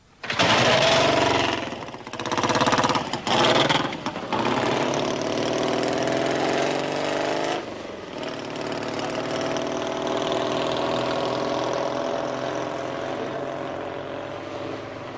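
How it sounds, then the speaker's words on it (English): A loud chopper motorcycle engine revs and rumbles, bursts of throttle then settling into a steady, throbbing idle that slowly fades. "Andy offers John a lift up to Golders Green on his newly completed chopper"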